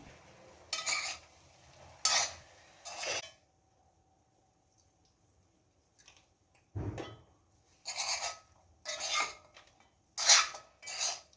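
Chicken 65 ingredients being mixed with food colour in a bowl: several short bursts of clinking and stirring, a quiet gap in the middle, then more scraping mixing strokes, close and moderately loud, no talking.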